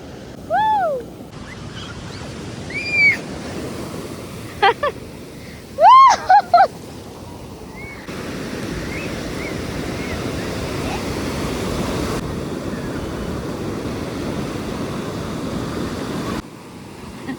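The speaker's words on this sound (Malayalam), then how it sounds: "എന്താണ് അറ്റമില്ലാത്ത കടല് നോക്ക്" Sea waves wash onto the shore at Kozhikode beach as a steady, continuous surf roar, strongest in the second half, with people talking and brief whistle-like voices near the start.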